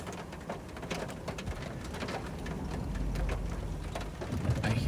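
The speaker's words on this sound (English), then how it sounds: "Yeah, here's the hail." Hail pelts down during a Texas supercell storm, a dense steady patter of rapid small impacts on grass and surfaces that swells slightly louder toward the end, with no voices.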